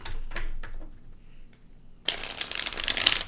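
Soft tarot card handling at first, then a sudden burst of crisp, riffling shuffle noise that continues loudly to the end.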